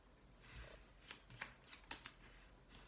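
Oracle cards shuffled close up, soft riffling slaps and several crisp snapping taps as two cards drop out, fairly quiet with no talk.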